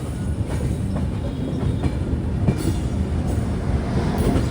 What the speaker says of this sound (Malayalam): ട്രെയിൻ ഇപ്പോൾ ഗോരഖ്പൂർ റെയിൽവേ സ്റ്റേഷനിലേക്ക് എത്തിക്കൊണ്ടിരിക്കുകയാണ്